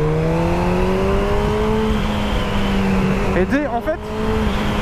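Honda CB1000R Black Edition roadster motorcycle engine humming steadily with a slowly climbing pitch, loud and continuous beneath a man's brief speech.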